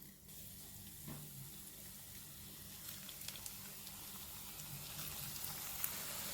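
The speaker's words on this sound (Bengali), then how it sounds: "এবার আমি বড়াগুলো দিয়ে দিই।" Pakora fritters drop into hot coconut cooking oil and deep-fry with a faint, steady bubbling sizzle, quiet and close, with a few small pops.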